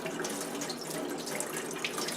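Tap water turned on high runs through a spray attachment pressed along the edge of an N95 mask, a steady, dense hiss and splash that holds throughout with no talking.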